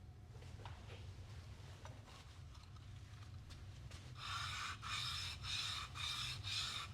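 A hand-forged knife blade scrapes across 240-grit diamond film in a series of about five steady, hissing sharpening strokes, close and distinct after a quieter stretch of faint rubbing and background hum.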